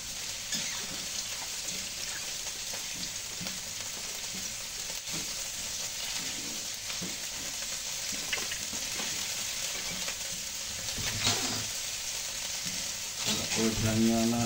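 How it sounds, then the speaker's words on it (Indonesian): Shrimp frying in a pan, cooked first for a home meal of fried rice and stir-fried dishes, give off a steady, dense sizzle and crackle that stays close and loud throughout, with light stirring scrapes and no talking. "Kita goreng udangnya dulu guys biar matang."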